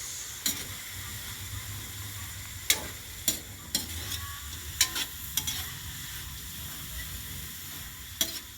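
Carrots, cabbage and beans for pancit bihon stir-fried in a pan, a steady hiss and sizzle with scattered clanks of the spatula against the pan.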